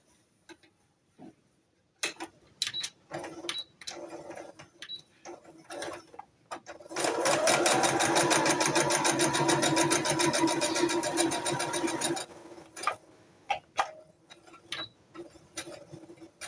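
A sewing machine stitches bag pieces together, heard as a steady mechanical chatter lasting several seconds, with scattered handling clicks and taps before and after.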